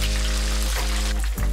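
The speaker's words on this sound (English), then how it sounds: "For the second frying, heat the oil to 190 degrees Celsius." Chicken pieces frying in hot oil, heated for a second frying to 190 °C, give a steady, close crackling sizzle with a constant low hum beneath, and no voices.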